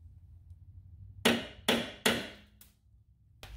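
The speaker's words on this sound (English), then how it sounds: "Got my punch to mark the perfect center" Three quick metallic taps from a center punch ring out in succession, then two lighter strikes after a short pause, close and crisp against a quiet background.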